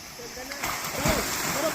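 Young gurukul students splash about while bathing in a deep pool beneath a waterfall in Chauras village, Himachal, with watery splatters over a steady rush of falling water and voices in the background.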